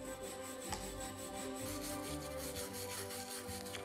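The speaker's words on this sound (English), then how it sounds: "The tricky part turned out to be in the inner slot of the wrench, where we tried to reach with a fine wire brush." A fine wire brush scrubs rust off an old wrench with a steady, close, rasping scratch that continues without a break, with soft tonal background music underneath.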